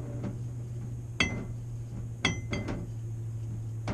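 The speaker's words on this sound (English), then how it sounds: "So I'm just going to mix the seasoning flour together." Utensil clinks against a bowl while seasoned flour is mixed for crispy pheasant burgers, with a few sharp metallic taps spaced out over a low steady hum.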